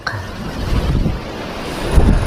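Steady wind buffets the microphone during a bike ride out of a village in Kamiling, Tarlac, on a climb toward Baguio; a continuous low rumble with a brief louder gust near the end, and no voices.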